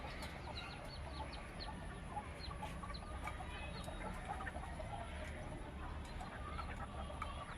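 Chickens clucking softly at a distance in a yard where hens have recently hatched chicks, a steady low background of scattered calls and small chirps with no voices.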